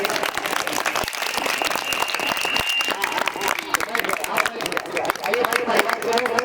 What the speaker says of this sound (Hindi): एक बार बात की मुझे जोरदार ताली